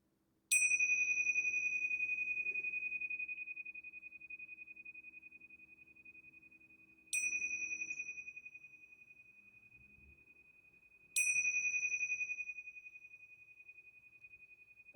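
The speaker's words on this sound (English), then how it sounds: "start by just listening to the sound of the bell" A small Tibetan bell struck three times for a guided meditation, each strike a clear bright ring that decays slowly into quiet, close and alone.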